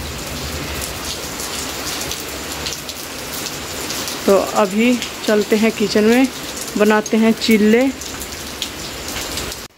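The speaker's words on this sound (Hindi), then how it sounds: "तो ये देखिए जी कितनी तेज तेज बारिश आ गई अभी फिर से" Heavy rain pours steadily and loudly throughout, a dense hiss of drops; someone speaks over it in the middle.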